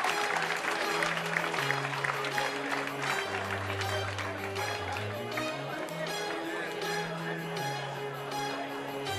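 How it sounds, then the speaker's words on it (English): Audience applause at the London Comedy Store, a dense, sustained crowd clapping throughout, with music playing underneath. "a round of applause for the first 3 acts you have seen this evening"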